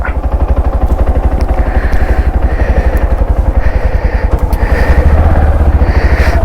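Motorcycles setting out on a group anniversary ride, loud close engines with a rapid rhythmic idle-to-rev thump that builds steadily, no talk.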